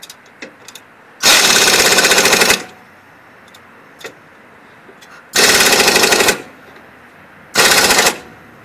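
An impact wrench tightens the strut bolts on a Toyota Corolla in three loud, rattling bursts, the first two about a second long and the last shorter, separated by quiet pauses with faint clicks.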